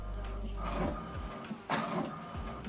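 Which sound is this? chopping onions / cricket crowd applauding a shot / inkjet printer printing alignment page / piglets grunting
inkjet printer printing alignment page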